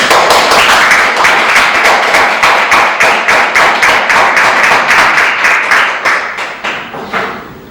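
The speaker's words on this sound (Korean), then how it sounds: "박수 한번 쳐주십시오." A lecture audience gives a loud, steady round of applause to welcome a poetry reciter and a pan flute master from Busan. The dense clapping carries a rhythmic pulse and tapers off at the very end.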